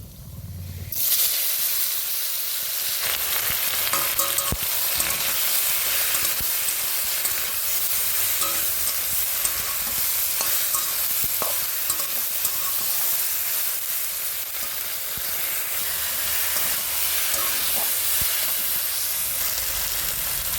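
Jujubes dropped into hot oil with panch phoron and dried chilies, a loud steady hiss and sizzle rising suddenly after a quiet start and continuing evenly nearby, no voices.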